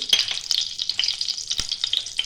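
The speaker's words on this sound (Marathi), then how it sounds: "निगुरी तडतडली की आपल्याला थोडेसे जिरे घालायचे" Mustard seeds splutter in hot oil in a kadhai while bitter gourd is being prepared: a dense run of quick, crackling pops and hisses, close and fairly even throughout. No voices.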